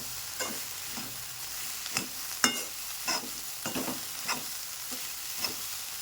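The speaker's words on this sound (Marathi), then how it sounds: "आता याला एक मिनटं भर मस्त फ्राय करूया" Masala chutney for egg bhurji fries in a pan, a low sizzle punctuated by regular spatula scrapes and stirring taps, roughly one every second, close up with no talking.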